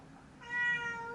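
A house cat lets out a single drawn-out meow wanting treats, close and fairly soft, rising then fading, with no voices over it.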